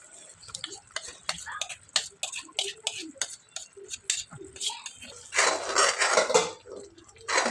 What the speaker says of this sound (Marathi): अशा प्रकारे छान मसाला मिक्स करून घ्यायचा आहे